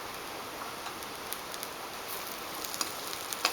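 Vegetables sizzle and fry steadily in a pan for a scrambled bread and paneer breakfast, a soft continuous crackle with a few faint ticks and no talking.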